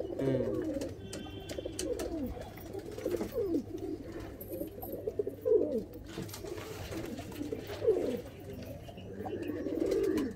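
Andhra high-flying pigeons coo steadily in a loft, soft low calls overlapping one after another at close range with no talking.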